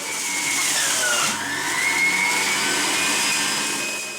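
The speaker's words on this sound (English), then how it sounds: "Now into a juicer, we're going to place in one whole orange," A juicer processes one whole peeled orange, giving a steady, high-pitched motor whine with a brief dip in pitch as the fruit is pushed through, close and loud with no talking.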